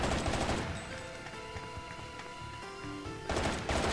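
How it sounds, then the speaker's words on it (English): Bursts of rapid gunfire in the video game Bayonetta open and close the stretch, loud and close, with sustained ringing tones and lighter pops in between. "Gunfire! Run!"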